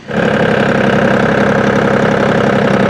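A Powertrac Euro G28 four-wheel-drive 28 hp tractor engine runs steadily and loud, a continuous close-up diesel rumble with a fast knocking pulse that holds even for three seconds, with no talk.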